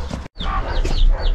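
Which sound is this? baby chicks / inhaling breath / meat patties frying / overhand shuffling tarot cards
baby chicks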